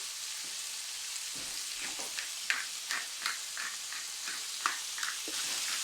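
Ground beef browns in a pan with a steady, close sizzle and hiss, broken by the scrape and clack of a utensil stirring the meat several times.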